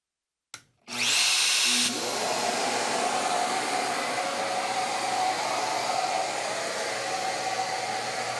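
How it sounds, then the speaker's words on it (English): A CNC router with a 1/8 inch bit spins up with a short whine, then cuts holes with a loud, steady, close-up drone that carries on to the end. "I like to go through and cut all my holes first. I'm going to use a lot of helixing. I have the 1/8 inch bit in there for everything."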